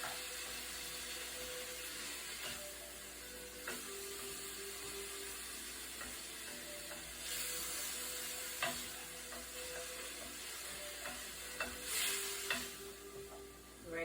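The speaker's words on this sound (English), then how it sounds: "Now I'm just gonna stir this all up together." Frozen soup ingredients stirred together in a hot pot, with soft scraping and swirling spoon sounds over a faint sizzle, quiet and close, no talking.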